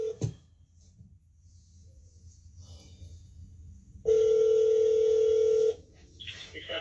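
Telephone call to a police department: a short tone at the start, then a loud steady ringback or line tone lasting about a second and a half, close and clear, with faint background noise.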